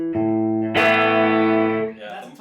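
Clean electric guitar through a Boss Katana 50 amp set to 50 watts, with no reverb: a sustained strummed chord rings out, then a louder second strum swells and sustains before decaying into fainter notes.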